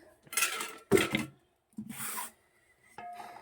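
Sliced okra is tipped into a cooking pan in three short bursts of rattling, scraping clatter, then a faint metallic knock and quiet between them.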